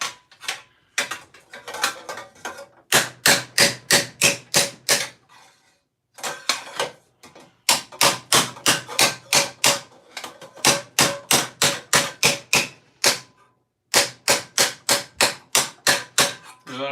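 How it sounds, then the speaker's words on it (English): Rapid bursts of loud metallic hammer blows strike a steel armour plate in a home garage, coming in rhythmic runs of about eight to ten hits separated by short pauses. "I want to hammer this in some more. Hammer this in."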